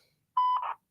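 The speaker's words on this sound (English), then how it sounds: "At the tone, please record your message." A voicemail recording beep sounds once during a phone call: a steady, clear electronic tone lasting under half a second, then a brief burst of fuzzier noise, with silence before and after.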